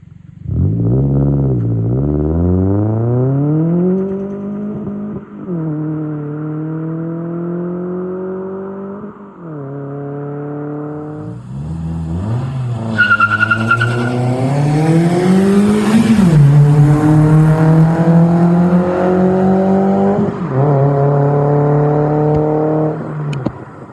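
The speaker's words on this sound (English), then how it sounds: "I guess I'll show you some videos of what the exhaust sounds like on this." A Toyota Tundra with a Flowmaster exhaust revs repeatedly, its deep engine note climbing and falling in several loud pulls with rising harmonics, close and dominant with no talking.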